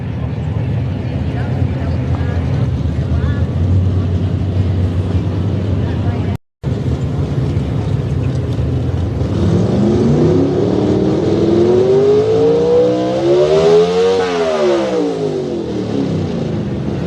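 A Chevrolet race car with a new small-block 440 cubic inch engine at a drag racing event, rumbling loudly, cutting out briefly, then revving up hard and rising in pitch before easing off, with talk over it.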